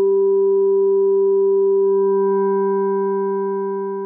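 Sustained FM synthesizer tone from a Liven XFM, operator 1 as carrier modulated by operator 2: a steady, clean pitched note with a few bright harmonics that thicken and brighten on the release tail as modulation rises, fading slightly at the end.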